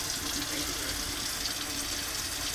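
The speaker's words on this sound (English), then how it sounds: "I just like to rinse things off a little bit." Steady running water from a tap pours continuously over shrimp being rinsed, a constant hiss with no voices.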